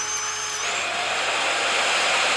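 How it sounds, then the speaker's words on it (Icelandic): High-pitched electric drill whining steadily as it bores a hole for birds in a children's show, a continuous loud buzzing with a slight pitch shift partway through and no talking. "Við verðum að bora holu fyrir fuglana."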